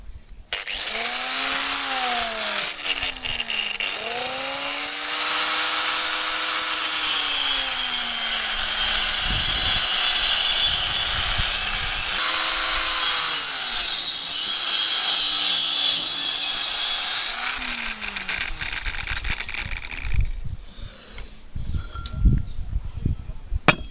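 Power saw cutting through steel box section for a homemade motorcycle paddock stand, a loud sustained grinding rasp with slowly sweeping whine, running steadily for about twenty seconds before cutting off into scattered knocks.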